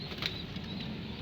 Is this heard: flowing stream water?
no